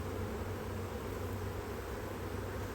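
A swarm of bees buzzes densely and continuously at close range, a steady loud hum filling the air without pause.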